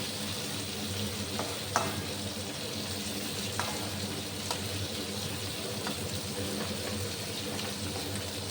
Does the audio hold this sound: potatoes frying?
yes